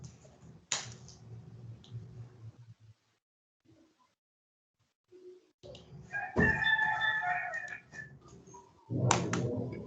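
A rooster crows in a classroom during a chemistry lecture, with several short crowing calls rising loud and near, separated by gaps and quiet stretches, alongside brief clicks.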